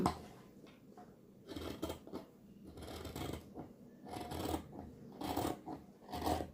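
Scissors snip through blouse sleeve fabric in a series of short, crisp cuts in a quiet room, each cut a brief rasping burst with short pauses between.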